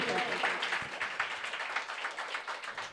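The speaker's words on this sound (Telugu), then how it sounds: "కొట్టు చప్పట్లు గట్టి యేసయ్యకి" A church congregation claps loudly for Jesus during a Sunday service, a dense, rhythmic burst of many hands with voices mixed underneath.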